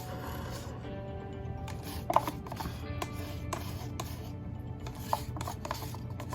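Acrylic paint being scraped out of a cup for a silicone flip-cup pour: close, irregular rasping strokes with a couple of sharper clicks, all over a steady low background hum.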